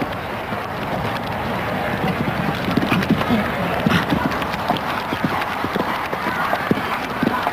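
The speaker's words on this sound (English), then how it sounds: "You can really hear the horses working." Horses' hooves pound across an indoor international show jumping jump-off course, rhythmic galloping thuds heard amid crowd and arena ambience, with a commentator's voice intermittently over the top.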